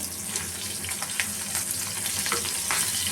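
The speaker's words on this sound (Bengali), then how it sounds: "ইলিশ মাছ ভেজে নিচ্ছি" Hilsa fish frying in hot oil gives off a close, continuous crackling sizzle with occasional sharper pops and soft scrapes, steady in level and without any talking.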